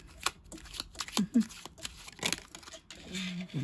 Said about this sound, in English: one more round of shuffling.